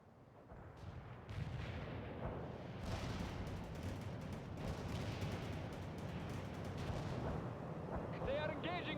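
Dense, continuous battlefield din from the World in Conflict game at a river crossing: rumbling artillery and overlapping gunfire under a steady roar, with brief voice-like chatter near the end.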